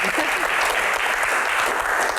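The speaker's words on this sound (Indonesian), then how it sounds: "tepuk tangan" A crowd claps steadily, a dense, even wash of applause filling the room from start to finish.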